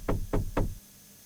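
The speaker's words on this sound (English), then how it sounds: "Okay, knock, knock." Three firm knocks land on a door in the video game The Last Door, evenly spaced and close, then stop and leave quiet.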